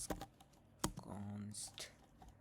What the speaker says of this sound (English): If I just start typing here